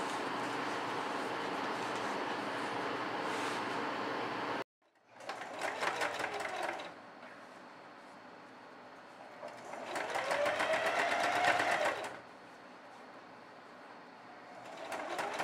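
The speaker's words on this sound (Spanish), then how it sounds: "Ahora realizamos la costura con overlock también" An overlock sewing machine runs in steady buzzing bursts as it stitches the seam of a faux leather jumper, stopping briefly and then starting up again in a loud, continuous whir.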